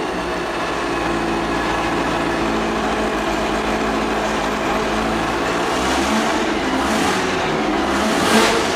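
An EMPI engine at an engine battle competition starts back up and runs with a loud, steady roar, revving slightly higher near the end, with no voices over it.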